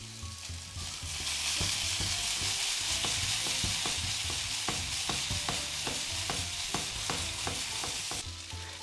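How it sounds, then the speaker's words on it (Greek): Greek meatballs (keftedakia) sizzle loudly in one layer in a pan over fairly high heat, a dense, constant hiss broken by frequent clicks and scrapes as they are stirred, with no talking. "Για να τηγανιστούν από όλες τις μεριές."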